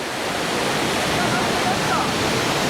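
Lakkam waterfall in Eravikulam National Park throws up spray with a loud, steady, close rushing roar of falling water that fills the whole stretch.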